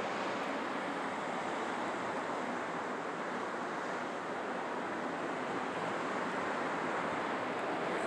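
Steady ocean surf washes continuously along a shoreline as a broad, even roar, with some wind buffeting the microphone throughout.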